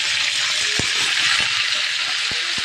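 Taro leaves and stalks, freshly washed and strained, hit hot oil in a pan and set off a steady, loud sizzling hiss, with a few dull thumps and knocks as they settle.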